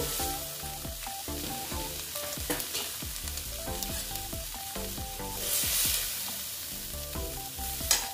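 Soybeans fry in a pan with a constant close sizzle while a spatula stirs and scrapes in irregular strokes, layered over a tonal background; no one speaks.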